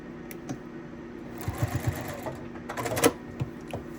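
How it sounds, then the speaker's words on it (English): Sewing machine stitching the corner of a beginner quilt, short bursts of fast mechanical needle chatter with small clicks and pauses between, close and moderately loud without talk. "we're gonna sew up to that mark for our corner, needle down, foot up, pivot the quilt so you sew right off that corner"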